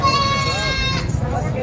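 A goat bleats loudly and close by at the Haripur livestock market, one wavering cry with faint background crowd noise.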